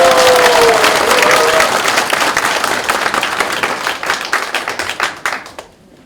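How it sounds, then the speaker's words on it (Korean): Party supporters clap loudly at a Democratic Party candidates' meeting in Chungbuk, Korea, in a dense burst of crowd applause that gradually thins into scattered claps and stops. "박수 한번 보내주시죠"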